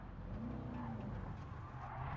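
A Chevrolet Corvette drifts through a corner on the Red Bull Ring in Gran Turismo 7, its engine droning steadily with a rising tire squeal, loud and continuous throughout.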